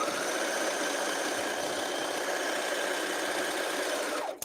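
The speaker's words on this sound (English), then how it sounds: "I'm just serging without having to keep cutting the threads" A serger sewing machine runs continuously at high speed, a steady close whirring buzz that carries on unbroken before stopping abruptly at the end.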